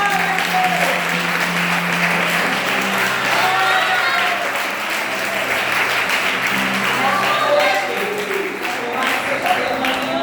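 Sustained applause from a large crowd at a church service, steady and dense throughout, with music or singing faintly underneath.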